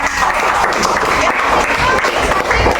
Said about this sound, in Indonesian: Ya, tepuk tangan buat Kampung